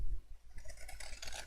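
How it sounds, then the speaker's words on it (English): Scissors or a blade trimming excess card from a handmade rectangular craft treat drawer, giving a soft close rasping, scraping cut that grows busier toward the end. "You can just trim this off."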